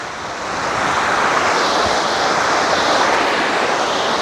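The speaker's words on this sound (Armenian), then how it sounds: "գետը շատացել է, էսի ինչ է, փառք է, մի հատ նայեք, ինչ կատաղած" A swollen, raging river in flood after heavy rain rushes past close by as a loud, continuous broadband roar of churning water, swelling in over the first half second and holding steady, with no speech.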